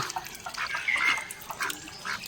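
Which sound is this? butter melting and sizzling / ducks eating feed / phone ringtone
ducks eating feed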